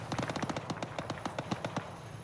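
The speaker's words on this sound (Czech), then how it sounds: "Ještě se tam střílí small arms fire trošku." Small arms fire from the ArmA III military game: a rapid run of about a dozen sharp gunshots in uneven bursts, moderately loud and mid-distance, with no voices over it.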